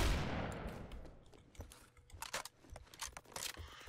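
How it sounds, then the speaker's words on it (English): Shotgun firing in the Phantom Forces video game: a loud blast that decays into a reverberant tail, followed by a string of sharp shots and mechanical clicks, with no speech. "Dude, I like the shotgun better than the spaz."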